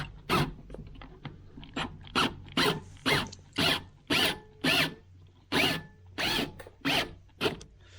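A screw being driven into a PTAC heating and air conditioning unit during installation: about a dozen short, even ratcheting whirrs in a steady rhythm, close and fairly loud, with brief pauses between bursts and no talking.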